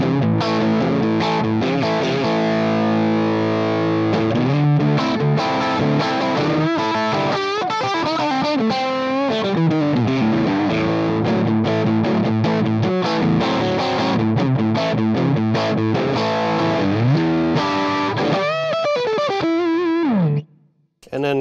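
An electric guitar runs through channel 2 of a Wampler Hot Wired v2 overdrive pedal with stacked tones, playing continuous distorted chords and melodic runs loudly and up close for about twenty seconds before stopping abruptly.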